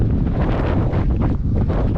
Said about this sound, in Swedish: Det blåser väldigt mycket också.